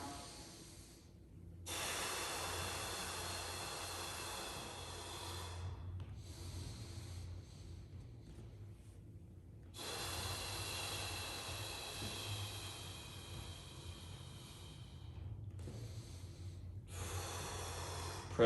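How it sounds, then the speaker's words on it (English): Forceful, hissing pressurized exhales alternate with quieter nasal inhales during a floor-based hip and hamstring breathing exercise, in long steady breaths with brief pauses between them, close and clear with no talking. "Pressurized audible exhales, nasal inhales."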